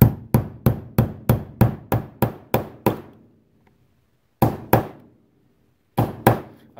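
Hammer blows drive a pin through the frame of a Taurus 85 revolver fitted with rubber grips: a rapid run of ten sharp metallic strikes, a pause, then two more pairs of blows, loud and close with no voices.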